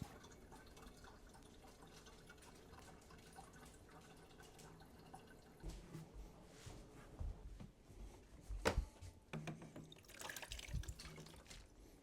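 Water poured into a microgreens tray to water the seedlings from the bottom: soft trickling and dripping, faint and close, growing busier in the second half with a few sharper splashes, no voices.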